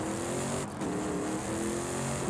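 A steady, loud engine drone of a 1991 GMC Syclone truck in Forza Horizon 5, running at high revs, with a brief dip before it resumes.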